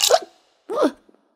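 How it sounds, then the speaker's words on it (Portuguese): A cartoon character hiccups twice, two short, sharp, close vocal gulps separated by a brief pause. "Puxa, o soluço tá aqui."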